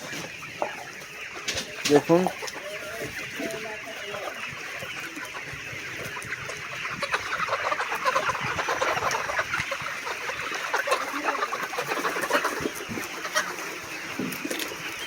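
Chickens in a poultry shed cluck and murmur in a busy, continuous chorus, moderately near, with a person speaking briefly over them and rain or background noise underneath.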